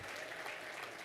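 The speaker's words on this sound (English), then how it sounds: "give yourselves a warm round of applause" Steady applause from an audience at a leadership dialogue event fills the whole moment, a dense even patter of many hands clapping with no break.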